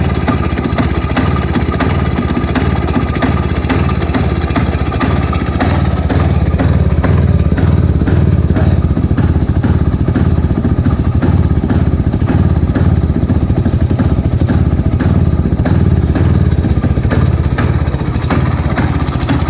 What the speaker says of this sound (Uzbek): motorlarni eshitib ko'ring